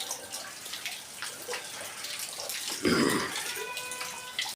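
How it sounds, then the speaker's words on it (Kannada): Rainwater collected for household use runs into a barrel in a steady gurgling stream that swells into a fuller, splashier pour partway through before cutting off abruptly. "ಈಗ ಬ್ಯಾರಲ್ ಇಟ್ಟು ನೀರು ತುಂಬಿ ನೋಡಿರಿ"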